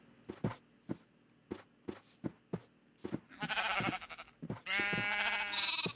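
Sheep in the video game Minecraft bleat twice, loud and near, over a steady run of blocky footstep thuds.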